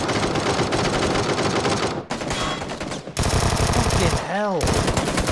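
Rapid automatic gunfire from a hard-to-control gun in the battle royale game PUBG, loud dense bursts almost throughout with a brief pause, and a man swearing over it.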